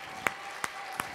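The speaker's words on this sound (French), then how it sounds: "On peut l'applaudir bien fort." Applause at a Téléthon talent show: three sharp, separate hand claps at an even pace, faint and brief, with no talking.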